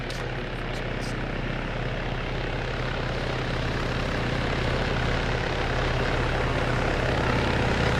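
A helicopter in the ArmA 3 video game drones continuously at close range, a loud steady rotor and engine roar filling the whole stretch without pause.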